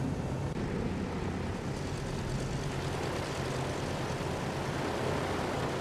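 A Delta airliner engine in a flight simulator game hums as a steady, unbroken drone, evenly loud throughout with no speech.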